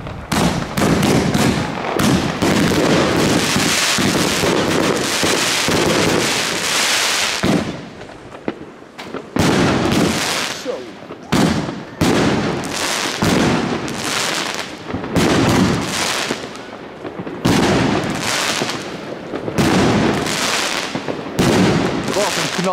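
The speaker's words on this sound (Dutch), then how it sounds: "Wat een knallen gek." Loud, rapid New Year's Eve fireworks, including a large cake, crackle and bang in dense bursts, with short pauses between volleys, and people talk over the barrage.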